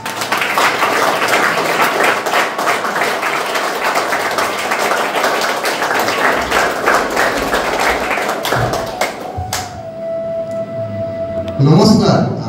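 An audience applauds at a competition to call the next contestant up, a dense, steady clapping that carries for several seconds before fading, followed by a sustained tone and some rustle.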